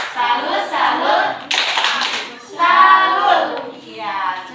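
A school class claps out a rhythmic salute pattern, several bursts of sharp hand claps mixed with children's voices and chanting.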